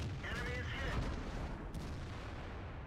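Tank cannon fire in World of Tanks, heavy booming shots from tanks such as the E-100 and Maus rumbling through a dense, continuous battle mix, fairly quiet with no clear isolated blasts.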